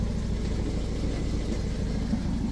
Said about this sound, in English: the exhaust is blowing. It does sound like a bit of a tractor when you take it down the road.